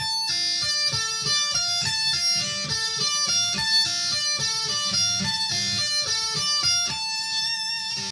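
A clean electric guitar plays fast repeating sweep-picked arpeggio runs, notes cascading up and down in a steady rhythm with no other sounds.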